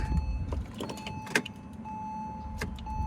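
Electric power windows on a flood-salvaged Porsche Boxster whirring as they move, a faint motor hum under a steady low rumble of the car, with a few small clicks and knocks nearby.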